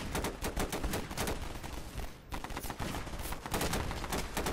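Rapid gunfire from rebel fighters in the video game Half-Life during a final boss battle, dense bursts of shots crackling continuously with a brief lull midway, loud and sustained.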